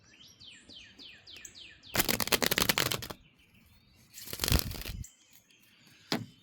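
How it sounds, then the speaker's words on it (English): Two loud bursts of tarot cards being riffle-shuffled up close, with light birdlike chirps in the quiet before and between them. "I haven't shuffled this way in a long time."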